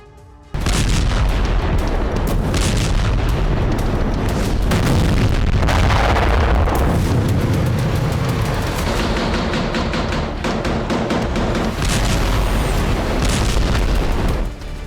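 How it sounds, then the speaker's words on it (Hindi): Artillery shelling in Gaza produces a dense, loud barrage of deep booming explosions and rumbling blasts that roll on almost without a break, with no voices. "थमने नहीं वाली है ये गोलाबारी।"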